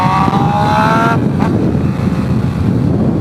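A motorcycle engine revs hard for about a second with a rising, buzzing whine, then drops back to a steady, loud rumble of wind and road noise while riding.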